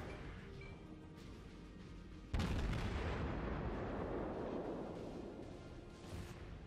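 Naval gunfire from a battlecruiser in the video game World of Warships: a sudden heavy boom cuts in after a quieter stretch, then rolls into a sustained, fading rumble.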